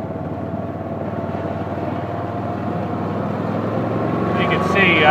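Kawasaki Mule utility vehicle engine running steadily during a ride, a constant close low drone that builds slightly toward the end, with no talk over it.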